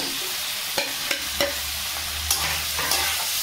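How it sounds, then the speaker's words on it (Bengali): Fish frying in a pan, being stirred: steady soft sizzle with several sharp scraping clicks of a utensil against the pan, close and fairly quiet, no talking. "ভালো করে আমি নেড়ে চেড়ে নেব।"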